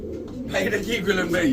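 Pigeons, including large Damascene pigeons, coo softly and repeatedly up close, their low throaty calls rolling one after another.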